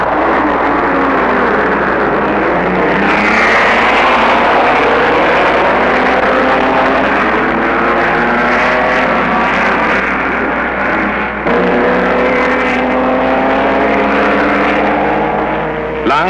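Mercedes W125 race cars roaring past at the German Grand Prix, a loud continuous engine drone with rising and falling pitch sweeps across the whole stretch, nearby and dense.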